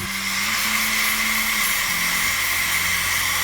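An angle grinder works steel on a car chassis before welding, giving a continuous loud high-pitched whine with a wavering lower hum underneath, with no talk.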